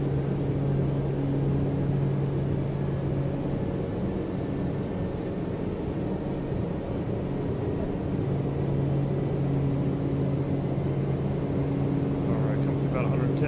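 Beechcraft Starship twin turboprop in a flight simulator, steady droning engine roar with a constant low hum throughout the takeoff roll, loud and unbroken, with speech over it.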